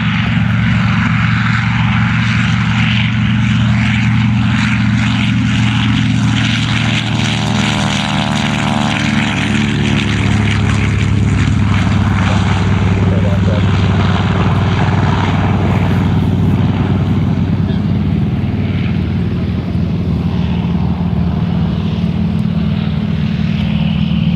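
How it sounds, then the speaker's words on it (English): The oldest flying B-25 bomber in the country taking off at an air show, its piston engines and propellers giving a loud, continuous deep roar with a shifting drone as it passes, close and steady throughout. "B-25 taking off, the oldest flying B-25 in the country."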